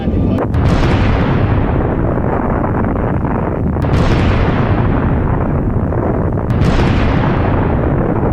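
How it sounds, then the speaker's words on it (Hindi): Three heavy explosions from an airstrike near Chabahar Port, each a sharp blast followed by a long rumbling decay, spaced a few seconds apart amid continuous roaring noise. "चाबहार पोर्ट के पास हमला होता है और जबरदस्त धमाका यहां पर होता हुआ दिखता है।"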